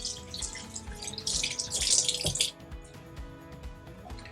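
Hands are rinsed under a running kitchen tap for a couple of seconds, a close hiss of splashing water that then cuts off, leaving faint drips and small clatters.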